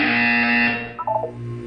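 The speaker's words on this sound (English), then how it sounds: "You will hear a buzzer." A harsh electronic buzzer from the video game Portal 2 on Xbox 360 drones steadily for about a second, then gives way to a few short bright beeps before fading to a low hum.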